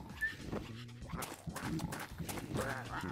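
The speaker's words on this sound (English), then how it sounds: "I need that dog to go." A cartoon dog from the video game Neighbours Back From Hell yaps and pants in quick bursts, fairly quiet, over a busy game soundtrack.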